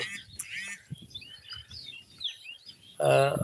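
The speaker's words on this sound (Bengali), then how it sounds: "অনেক পাখির কিচিরমিচির শব্দ শোনা যাচ্ছে" Many birds chirping over farm fields, a scatter of small, distant high tweets and calls throughout, with brief speech at the start and a louder voice near the end.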